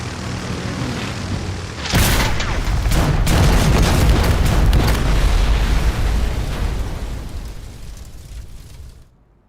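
Wartime aircraft releasing bombs, with a sudden heavy blast at about two seconds followed by a sustained roaring rumble of explosions and engine drone, loud and dense, fading out at the end.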